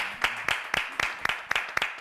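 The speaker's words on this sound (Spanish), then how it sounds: "¡Un aplauso!" A studio audience on a live Spanish-language TV variety show claps in steady, evenly spaced beats, about four per second, crisp and moderately close with no talking over it.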